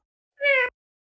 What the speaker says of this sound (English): Pet the cat. Oh. Meow.